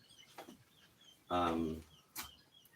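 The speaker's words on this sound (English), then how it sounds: "hearing the chirps of my quail in the background" A single harmonic quail call rings out clearly, with a few faint, short chirps before and after it in a quiet greenhouse.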